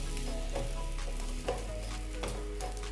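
Sliced brinjal fries in a pan with no oil, a soft continuous sizzle with occasional scraping stirs, close but quiet over a low steady hum, no talk.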